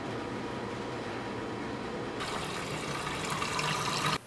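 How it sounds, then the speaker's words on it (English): Motor oil is poured into a freshly rebuilt 1932 Ford Model B four-cylinder engine, a steady liquid pour that grows brighter and louder partway through, then cuts off sharply at the end. "We're gonna fill her up with oil now. Brand new motor, 5 quarts, because the drip pan is empty."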